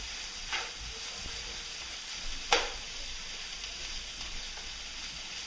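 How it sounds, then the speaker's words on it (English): Orzo pasta, two cups, cooking in a pan and being stirred: a soft continuous sizzle and hiss, broken by a few faint scrapes and one sharper clatter. "So just give that a stir up here."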